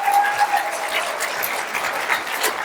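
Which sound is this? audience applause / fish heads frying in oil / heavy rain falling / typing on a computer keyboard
audience applause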